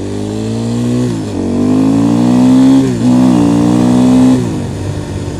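A small motorcycle engine runs and revs repeatedly. The loud, close buzzing tone climbs and falls through several throttle blips over a steady idle, with no talking.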